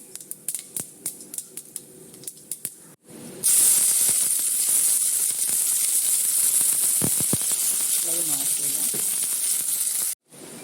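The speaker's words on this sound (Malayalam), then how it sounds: "പിന്നെ കടുക് വറുക്കാം." Sharp crackles and snaps come first, then a loud steady hiss and spluttering of seeds in hot oil, cutting off near the end.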